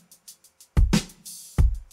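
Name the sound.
drum beat in isolation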